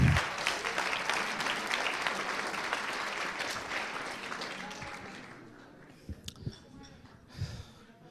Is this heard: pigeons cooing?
no